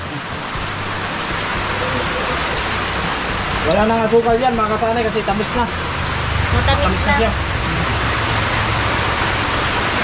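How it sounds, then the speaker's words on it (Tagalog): Heavy rain pouring down outside a house, a dense steady hiss and patter throughout, with a person talking over it in the middle. "Lakas ng ulan. Grabe. Napakalakas ng ulan."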